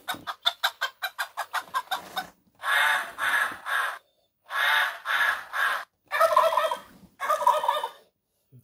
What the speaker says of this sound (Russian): Вот петух